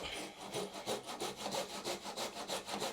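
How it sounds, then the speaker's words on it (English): A handsaw resawing a board along its length cuts in steady back-and-forth strokes, about four per second, rasping and woody, close and fairly loud with no voices. "It's just your saw, handsaw."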